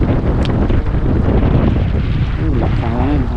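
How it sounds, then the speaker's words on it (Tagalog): Strong wind buffets the microphone with a steady, loud rushing roar, and a voice speaks briefly near the end. "Lakas ang hangin."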